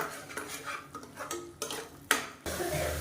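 Kurma masala being stirred and sautéed in a pan, with a spoon scraping and clinking against the metal in uneven strokes, close and fairly quiet, and a sizzling hiss rising at the end.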